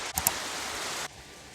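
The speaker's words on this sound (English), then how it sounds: "It really had to rain right now." Steady, hissing rain pours outside during a spell of wild Texas weather, with a couple of brief sharp knocks early on, then cuts off abruptly, leaving only a faint hush.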